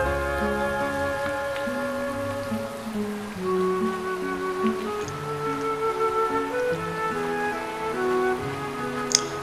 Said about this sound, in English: Today it's a bit rainy and cool.